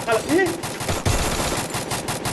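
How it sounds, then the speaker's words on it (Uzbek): Rapid automatic rifle bursts in the Free Fire video game, a loud continuous rattle of gunfire filling the whole stretch with no pauses. "Lutchi men avtomat bilan otaman."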